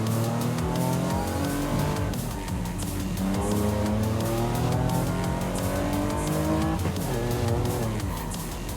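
A Honda supercar in Forza Horizon 5 roars loudly along a winding road, engine pitch climbing and dropping through gear changes with brief tire squeal, continuous and close.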